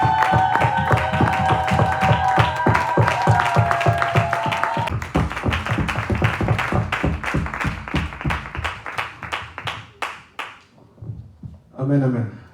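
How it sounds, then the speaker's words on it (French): Congregation in a French-speaking church service clapping together in a steady rhythmic beat, loud and close, with a voice over it at first; the clapping thins out toward the end before a short burst of sound. "Acclamons pour Jésus."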